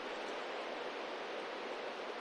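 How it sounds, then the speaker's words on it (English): Running water in a small Minecraft cave, a steady broadband rushing like a waterfall, constant and fairly faint with no other sounds. "I think that's like running water or something, maybe like a"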